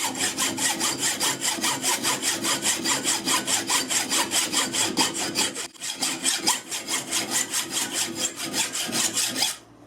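A hacksaw cuts very hard metal stock to length, steady rhythmic back-and-forth rasping strokes, close and fairly loud, with one brief pause midway and no talking.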